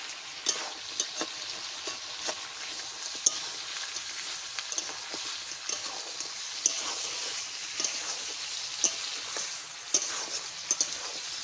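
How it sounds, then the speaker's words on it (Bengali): Duck meat frying in hot oil and being stirred in a pan, a steady close sizzle broken by regular scraping and clinking strokes of the spoon, with no talking. "দেখতে পাচ্ছ আমি কিরকম করে ভেজে নিচ্ছি, এখনো কিন্তু ভাজা হয়নি মাংস।"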